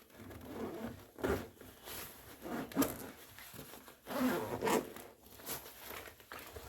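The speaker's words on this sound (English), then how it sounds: "These zippers right here, the corners are so stiff that it can be a pain at times to get that zipper around the corner." A stiff-cornered zipper on a Vanquest Carbide 8 bag is pulled open in several short, rasping bursts with brief pauses between them, close and fairly quiet.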